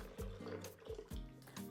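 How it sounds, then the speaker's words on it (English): Evaporated milk pours into a blender holding pecans for atole de nuez, a soft close gurgling liquid stream with a few glugs, faint and alone. "Pour in 12 ounces of evaporated milk"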